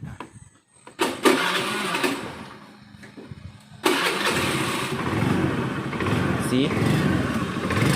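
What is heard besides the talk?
Honda Beat 110 motorcycle engine starting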